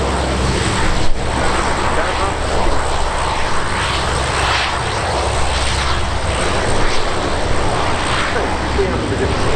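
Eurofighter Typhoon jets roar past in close formation at the RIAT airshow, a steady, loud broadband engine rush filling the whole span while an announcer talks over it.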